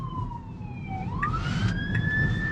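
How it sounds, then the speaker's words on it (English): A fire truck siren sounds behind a car driving downtown, its tone gliding down and then climbing again, clear and sustained over the low hum of traffic. "We got sirens. We got a fire truck behind us."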